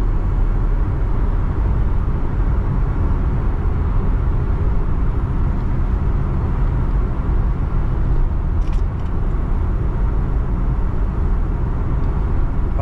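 A 1600cc, 160 PS Honda Civic drives through a road tunnel, its engine and road roar a steady, loud, enclosed drone that holds constant throughout with no talking.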